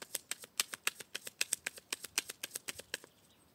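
Béline oracle cards being cut and shuffled by hand, a quick run of about twenty crisp, evenly spaced snaps and flicks, close and clear, stopping abruptly near the end with no voice.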